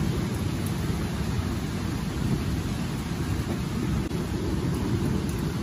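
Heavy rain and hail pour down during a nighttime storm in Beijing, a loud, dense, unbroken roar that fills the whole stretch with no distinct thunderclap standing out.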